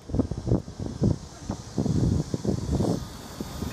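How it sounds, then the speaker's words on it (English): Breezy wind outdoors on a Saturday morning in Korea, buffeting the microphone in a steady low rumble with gusty swells, while a voice talks underneath. "actually a little windy out here."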